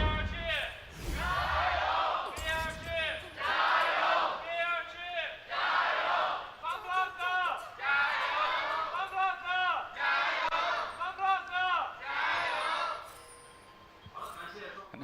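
An esports arena crowd at an LPL League of Legends match between Rogue Warriors and Vici Gaming cheers and chants in loud, rhythmic bursts, filling the space steadily for about fifteen seconds.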